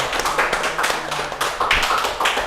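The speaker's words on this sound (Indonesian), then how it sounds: "tepuk tangan dong." Audience clapping at a crowded apartment gathering, a dense burst of hand claps and taps that swells and fades in waves over a couple of seconds, with no voices.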